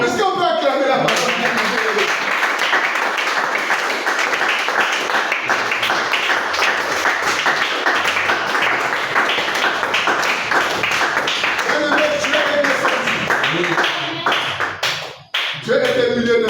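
A church congregation bursts into dense, sustained applause and rhythmic clapping that fills the room for many seconds before tapering off near the end.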